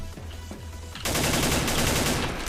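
Gunfire in the online shooter Wolfteam: a few sparse single shots, then a sudden loud, continuous burst of rapid automatic fire that runs to the end.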